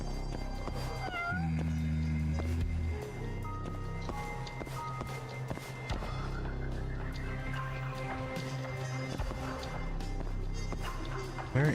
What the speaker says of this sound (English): I hear cats. Can't see cats.